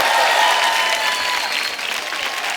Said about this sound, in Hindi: एक बार जोरदार तालियां किशोर दा के नाम पे।